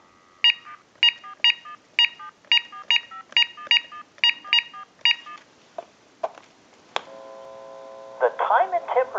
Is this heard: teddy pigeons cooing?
no